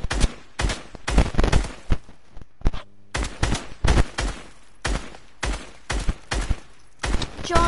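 Someone shoots at a row of targets in a rapid, uneven string of loud, close gunshots, fired in quick bursts with a brief pause partway through.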